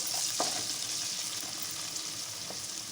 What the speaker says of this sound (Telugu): ఇప్పుడు అల్లం వెల్లుల్లి పేస్ట్ వేసుకున్నాం